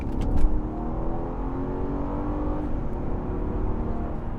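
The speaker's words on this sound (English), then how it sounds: "Just give it some gas. The engine sounds awesome." A 2011 Mercedes-Benz CL500 engine revs and accelerates steadily, a loud sustained roar with rising harmonic whine, close by and with no talking.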